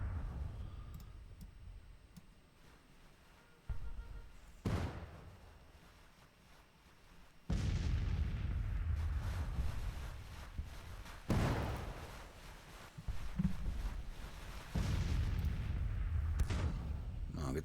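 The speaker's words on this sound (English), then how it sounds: "Just let the artillery take care of it." Artillery booms in a Civil War video game arrive as several sharp heavy blasts with rumbling tails, spaced irregularly over a low murmur and clicks, some louder and nearer than others.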